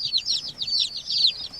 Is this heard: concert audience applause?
no